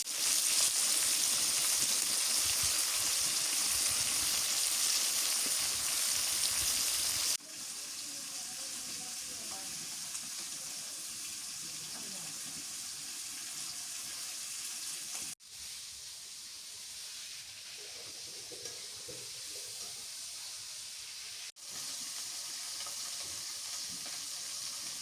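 Pieces of pangas catfish fry in a pan in a home kitchen, giving a loud, steady sizzle that carries on for the whole stretch, easing slightly in level at a few points, with no talking.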